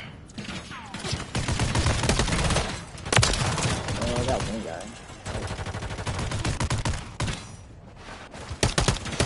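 Loud automatic gunfire in a shooter video game, repeated rapid bursts close up with brief gaps between volleys.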